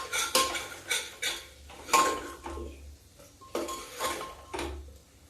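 Vegetables and potatoes being mixed in a cooking pot in a village kitchen, with a series of sharp metallic spoon-on-pot clanks and scrapes in irregular bursts, close and clear with no talking.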